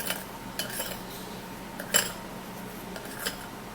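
A spoon clinks against a bowl while white sugar is added, giving a few sharp, bright metallic taps spaced irregularly over a quiet background, with one louder knock near the middle.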